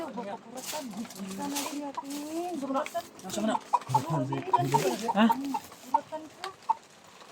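Chickens cluck repeatedly nearby, their calls mixed with people talking over them throughout.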